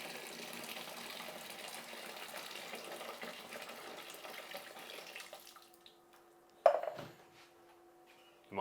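Boiled hot water pours in a steady splashing stream into a vessel while making elderflower champagne, running for about five seconds and then stopping, followed by a sharp clunk of a pot and quiet room noise.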